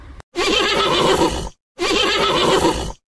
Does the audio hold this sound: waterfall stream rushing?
no